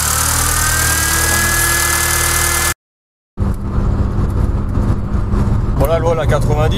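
A turbocharged Fiat Seicento SPI engine holds a loud, steady drone at around 4000 rpm. The sound cuts out briefly, then the engine roar returns, with a voice faintly audible toward the end.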